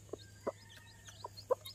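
A country hen gives a few soft, short clucks near her newly hatched chicks, faint and spaced irregularly over a steady low background hum.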